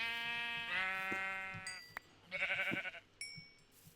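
Two sheep in Minecraft bleat in turn, with long wavering bleats close and clear and a few brief game sounds between them.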